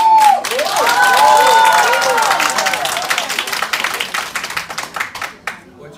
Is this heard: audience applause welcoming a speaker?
yes